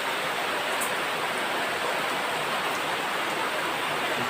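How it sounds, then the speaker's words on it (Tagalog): Steady, dense rain pours without a break, a loud continuous hiss that fills the whole stretch with no voices over it. "Kasi ulan."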